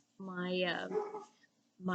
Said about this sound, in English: And you can hear the puppy in the background.